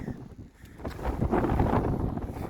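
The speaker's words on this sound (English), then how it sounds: "It's windy." Wind buffets the microphone in gusts on a mountain section of the Appalachian Trail between Erwin, Tennessee and Marion, Virginia, a low roaring rush that swells and stays strong, with no voices.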